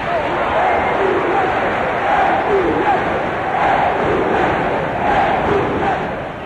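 Steady roar of a large basketball crowd applauding and cheering as the home team heads back to its bench during a timeout, dense and continuous throughout.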